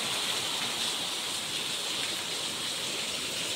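Heavy monsoon rain pours down in Mumbai as a continuous, full wash of water noise, loud and unbroken and close by, with no talk.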